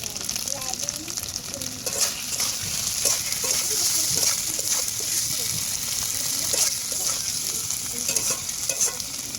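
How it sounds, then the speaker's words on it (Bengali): Fried potatoes sautéed with spices in a pan for a rohu fish curry: a dense, steady sizzle close by, with repeated scraping and knocking of a spoon stirring through the mixture. "তো এবার ভেজে রাখা আলুগুলো দিয়ে দেবো। তো এটা মশলার সঙ্গে ভালো করে কষিয়ে নেবো।"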